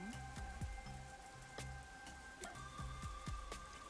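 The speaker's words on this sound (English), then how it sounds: "Rain just won't stop, huh?" Rain falls steadily in the video game Rain Code, a faint, continuous patter of drops under soft background music.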